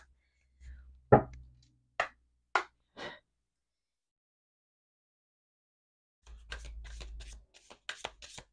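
Tarot cards are shuffled in short, crisp riffles: a few separate flicks early, a pause, then a longer burst of shuffling near the end. No voice is heard.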